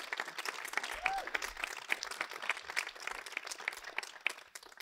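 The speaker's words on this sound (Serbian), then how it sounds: "Molim jedan aplauz" Audience applause at a debate on artificial intelligence, a steady wash of many hands clapping in a hall, moderately loud and sustained for several seconds with no talk over it.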